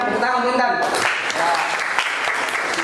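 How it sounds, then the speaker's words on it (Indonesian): A classroom of students gives a short burst of applause for a classmate. The clapping begins after a moment of speech and carries on fairly evenly with voices mixed in. "Tepuk tangan untuk Intan."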